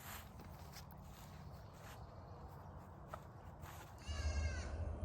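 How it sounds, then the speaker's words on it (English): A goat on a North Idaho homestead garden at sundown gives a loud, wavering bleat near the end, rising abruptly over a rumbling outdoor background. "Ignore that goat that's screaming at me."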